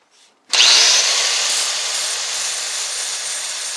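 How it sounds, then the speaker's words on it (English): Power grinder working on the cylinder pin hole of a padlock: after a faint start, a sudden loud, steady high-pitched whine with gritty abrasion that holds nearly unbroken and tapers only slightly, close up, with no talk. "I ground it down until I could start to see the metal dimple back in."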